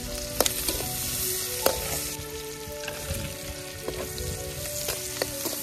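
Bell pepper sizzles and fries in a pan over an open wood fire outdoors, a steady crackling hiss with occasional sharper pops and clinks across the whole stretch, close and moderately loud, no voices.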